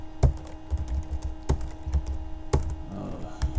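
Keys clacking on a computer keyboard in a few separate bursts with short pauses between, close and fairly clear over a low background hum.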